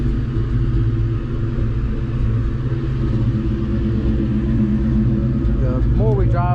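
A 1996 Ford Mustang GT with a swapped motor idles and rumbles steadily up close, a constant low engine drone running throughout while someone talks over it.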